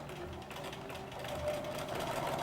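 Sewing machine stitching fabric for an instrument bell cover, a steady close whirring hum with a rapid mechanical patter throughout, no voices.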